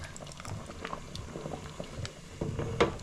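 A pot of Kenyan githeri with potatoes and beef stew simmering, giving a soft, steady bubbling and popping close by at low volume, with no talking.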